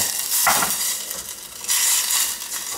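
Water poured into a pan of browning mixture for a curry sets off a loud, hissing sizzle. Bursts of spitting noise rise and fall, with a brief clatter of utensil against pan.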